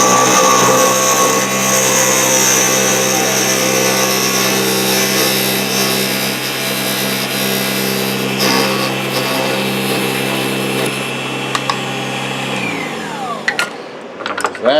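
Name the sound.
Proxxon DB 250 microlathe parting off nutcracker leg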